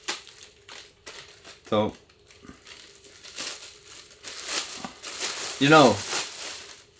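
Plastic bag holding pesto in a canister crinkles and rustles in short, close bursts, heard between and under bits of speech.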